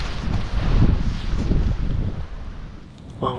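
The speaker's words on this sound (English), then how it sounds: "the wind's good, it'll be blowing over the pond" Steady wind gusting across an open cattle pond in Kansas, heard from a cedar tree stand, a loud rushing roar with microphone buffeting that swells and eases over a few seconds.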